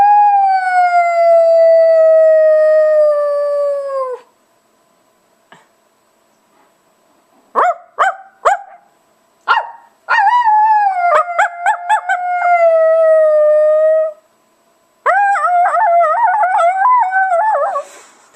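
Coyotes give long wavering howls outdoors, followed by bursts of high, excited yips and yelps and then another rising chorus of howls, loud and fairly close with no talking.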